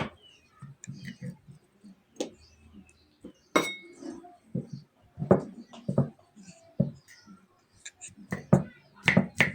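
Kitchen knives clattering and clinking against one another and on glass as a cook gets ready to slice banana blossom, a series of sharp metallic clinks mixed with talking.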